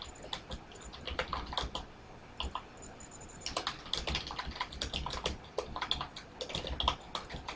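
Rapid, irregular keystrokes on a computer keyboard, close and clear, with a short pause before typing picks up again in quick bursts.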